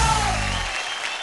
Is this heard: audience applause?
yes